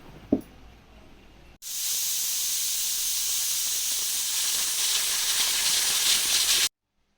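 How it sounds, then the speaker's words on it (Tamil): After a brief knock, a pressure cooker whistle releases a loud, steady hiss of steam for about five seconds while cooking country chicken curry, then cuts off abruptly. "ஒரு அஞ்சுலேருந்து ஆறு விசில் வர வரைக்கும் வேக வச்சுக்கோங்க"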